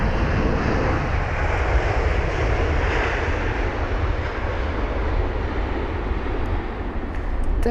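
A Boeing 787-9 Dreamliner arriving at London Heathrow gives a steady, loud jet engine roar with deep rumble, continuous throughout and close by.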